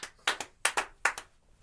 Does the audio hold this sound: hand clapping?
yes